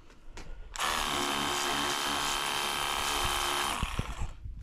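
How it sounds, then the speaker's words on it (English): Ingco cordless 20V pressure washer running in a steady, loud motorized whine for about three seconds, starting abruptly and cutting off, with faint handling noises before and after. "This is the Ingco Tools pressure washer."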